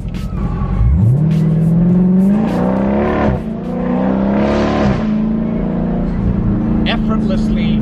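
A Dodge Charger Scat Pack in manual mode, its engine revving hard under acceleration with brief dips at each paddle shift before it climbs again, loud and close throughout.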